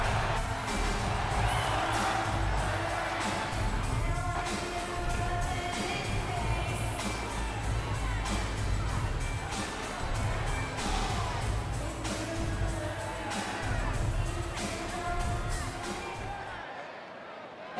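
Arena crowd in a wrestling video game SmackDown show in Toronto, a steady dense roar of cheering and whoops that carries on evenly throughout and drops off abruptly right at the end.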